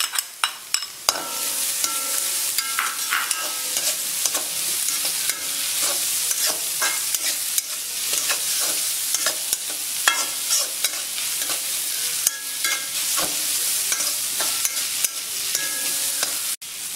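Sliced onion with crushed ginger and garlic frying in a pan for a beef dry roast, a continuous crackling sizzle broken by regular sharp spatula scrapes and knocks against the pan, close and fairly loud.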